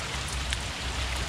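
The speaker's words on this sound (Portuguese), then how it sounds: "Tá chovendo já faz mais de hora aqui em Goiânia e não para." Heavy rain pours steadily at a fish-and-pay fishing pond in Goiânia, a dense, continuous hiss of drops hitting surfaces close by, with no voices.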